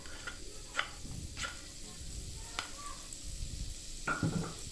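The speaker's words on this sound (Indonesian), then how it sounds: "Panaskan wajan lalu masukkan butter sedikit saja, hanya untuk menumis, dan bawang putih yang sudah dihaluskan tadi." Mashed garlic sautés in a little butter in a heated wok, a quiet, steady sizzle with occasional clicks and scrapes of stirring and a clink of the pan near the end.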